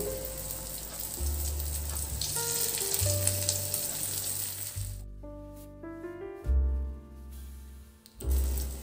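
Beaten egg with spring onion poured over tofu in a frying pan, crackling loud sizzle that surges and fades, with low thuds and clinks of pan handling, no speech.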